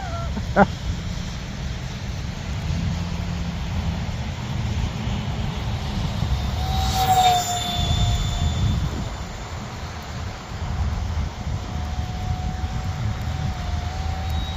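An FX9631 J35 brushless EDF RC jet flies its maiden flight outdoors in light snow. A steady, distant ducted-fan whine runs throughout under wind noise, with a higher whistle rising briefly midway.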